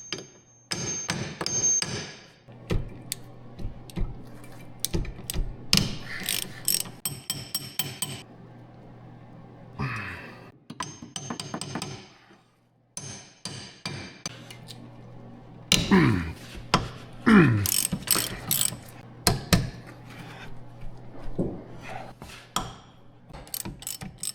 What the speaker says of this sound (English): I'll probably have to use a hammer to tap the socket on to make sure it's seated well.